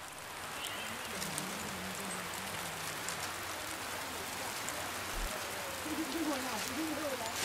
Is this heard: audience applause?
no